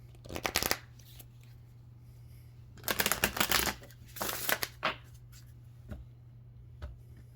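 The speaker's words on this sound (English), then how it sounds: "Let's get one more shuffle." A deck of cards being riffle-shuffled several times, crisp rapid flutters in short bursts, close up with a low hum beneath.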